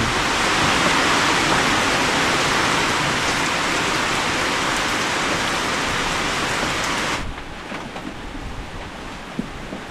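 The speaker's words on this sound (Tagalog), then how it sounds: "Hindi na mabasa si Marimar ng ulan." Heavy rain pours in a dense, constant hiss, loud and close, easing slightly near the end with a few drops standing out.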